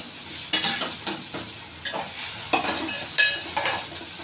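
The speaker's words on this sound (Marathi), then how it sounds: "थोडीशी ना आलं लसूण पेस्ट टाकते" Potatoes and onion sauté with ginger garlic paste, sizzling steadily while a utensil scrapes and stirs in repeated bursts against the pan.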